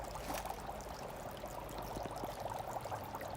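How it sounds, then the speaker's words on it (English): Dry ice dropped into boiling water outdoors gives a dense, steady rush of bubbling and churning water with faint scattered pops, continuous and fairly close, with no talk. "let's go ahead see what happens when we put dry ice into the water"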